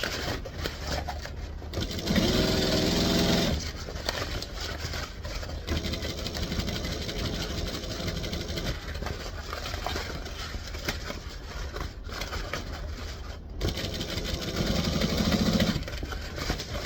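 A sewing machine stitches printed waterproof canvas in two short bursts of motor whir, one early and one near the end, with a quieter mechanical hum in between and no voices.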